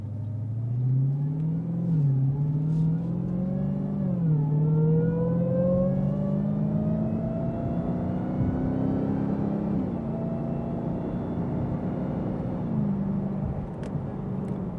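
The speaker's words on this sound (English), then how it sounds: "I love hearing the transmission work." A 2022 Dodge Challenger Super Stock accelerates hard on the road, its engine note rising steadily then dropping at each transmission shift before climbing again, a loud continuous rumble heard from inside the car with no talk.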